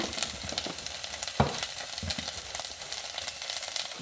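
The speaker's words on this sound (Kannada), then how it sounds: "ಒಂಚೂರು ಹೀಗೆ ಫ್ರೈ ಮಾಡ್ಕೊಂಬ" Green peas kurma masala frying in oil in a pan, a steady close sizzle with a few scraping stirs and one sharper clatter partway through, no voices.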